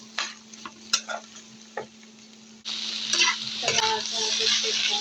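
Okra with salt and chopped green chili is stirred in a pan: a few sharp spatula scrapes, then a loud, dense sizzle that swells and holds, with intermittent clinks.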